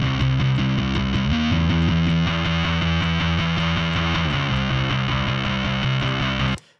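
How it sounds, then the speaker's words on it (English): A bass guitar plays a short riff through a Big Muff fuzz distortion pedal, thick and buzzy, then cuts off abruptly at the end. "Here's a big muff."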